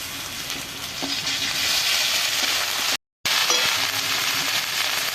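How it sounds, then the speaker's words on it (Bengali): Ginger, garlic and cumin paste fries with onions in a pan, giving a steady, loud, close sizzle that crackles throughout, with one very brief dropout midway. "পেঁয়াজটা কিছুক্ষণ ভেজে নেওয়ার পরে আমি মশলা বাটা দিয়ে দিচ্ছি"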